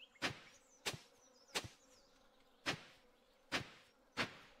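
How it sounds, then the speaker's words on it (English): Flies buzz in the farming game Stardew Valley as six short, sharp bursts at a steady, slightly uneven rhythm, close and fairly quiet, with no talking. "I can hear a lot of flies buzzing."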